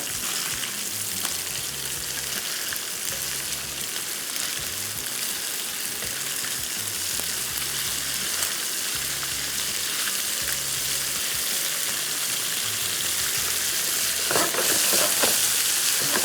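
Fish pieces frying in a pan after being flipped, giving a steady close sizzle and crackle throughout with a brief stirring or scraping near the end, no talk.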